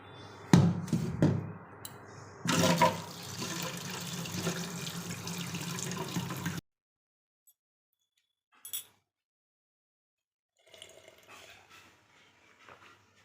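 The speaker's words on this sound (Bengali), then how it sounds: "আগে ডালটা ধুয়ে বসিয়ে দিয়ে যাই" Tap water runs over lentils being washed in a home kitchen, a loud splashing stream for several seconds with knocks and clinks, then near silence broken by a brief clatter and faint rustling.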